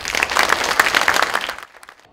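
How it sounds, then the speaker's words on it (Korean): Audience applause at a district office event, a brief burst of dense clapping that fades out within about two seconds. "이분들 일 열심히 잘해주시라 박수 한번 주십시오"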